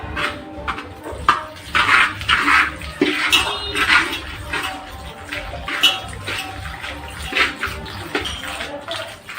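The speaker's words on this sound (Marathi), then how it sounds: "तर अगोदर आपण 1 पातेलं पाणी घालणार आहोत." Water splashes and pours in uneven bursts into a pot, loud and close, with occasional clinks of metal in between.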